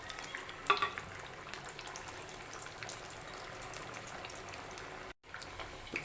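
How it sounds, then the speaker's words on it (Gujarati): Green pea cutlets fry in hot oil with a steady, soft sizzle and faint bubbling crackle throughout, a brief sharper clink near the start and a momentary gap just after five seconds. "તો એવી જ રીતે આપણે બીજી કટલેસને પણ તળી લઈશું."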